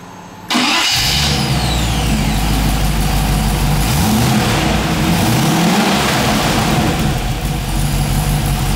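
A 3.5-litre Stage 3 Rover V8 with an Edelbrock 500 carburettor starts up on an engine test bed and then runs loudly, its pitch rising and falling as it revs through a steady rumble.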